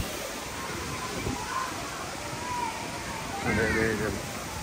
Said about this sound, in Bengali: দেখেন যে আসলে কত সুন্দর ঝর্ণা।